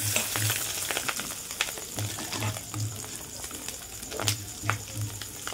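Fish roe fritters with onion and chilli fry in a steady crackling sizzle, broken by occasional stirring clicks, while a low, pigeon-like cooing repeats faintly in the background.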